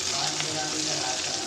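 Green chilies and onion frying in hot oil for a chapati gravy, giving a steady broadband sizzle that holds evenly from start to finish, close and fairly loud, with faint background noise but no clear talk.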